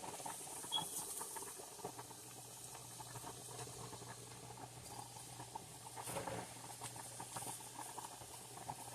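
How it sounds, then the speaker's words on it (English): Corn chips fry in hot corn oil, sizzling and crackling continuously, a soft, dense patter of frying that stays quiet and even throughout. "And this is corn oil that I'm frying in."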